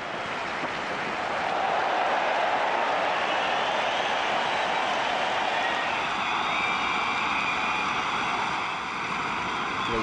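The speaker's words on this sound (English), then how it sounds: "that has brought a lot of cheer from the crowds" Large cricket stadium crowd roars and cheers for Shoaib Akhtar's record fast delivery, a dense, sustained wash of noise that swells early and holds steady, heard at a distance without talk.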